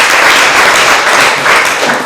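A school class applauds during a French-language lesson. The clapping is dense, steady and close, a short burst with no talk over it.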